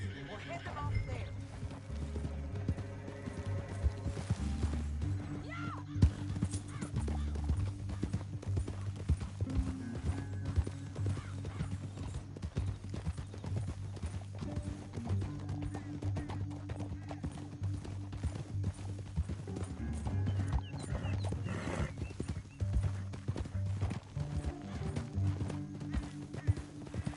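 Horse hooves clatter in a steady clip-clop through the western game Red Dead Redemption 2, running under continuous music with a horse whinnying and characters speaking at times.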